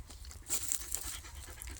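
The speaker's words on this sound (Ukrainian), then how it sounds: "Потім ми рядом даємо собаки понюхати" A dog pants and sniffs closely at a scented object during scent-work training, quick breathy huffs repeating over a low steady background.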